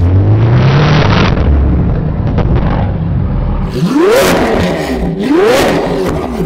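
A loud Lamborghini SV Roadster engine revs hard outdoors, roaring up and down in pitch with sharp exhaust blasts through a Novitec exhaust system, close by and continuous throughout.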